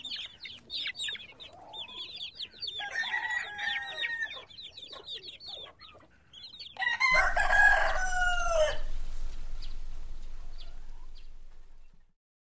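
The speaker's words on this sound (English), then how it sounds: "hen" A hen clucks in quick, choppy bursts, then a rooster crows loudly and close in a long drawn-out call that fades away at the end.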